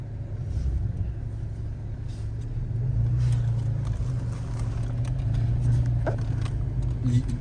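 Dodge Challenger SXT on the road, a steady low engine rumble and tire drone from inside the car that swells slightly midway, with no one speaking.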